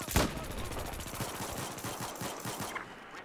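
Battlefield 4 multiplayer firefight: rapid rhythmic gunfire bursts after a sharp opening shot, fairly close, steady volleys fading near the end.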